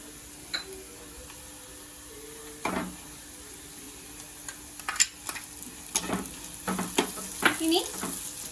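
Sliced onions frying in oil in a clay pot, with intermittent scraping and stirring strokes over a soft, steady sizzle, growing busier toward the end; fairly quiet and close.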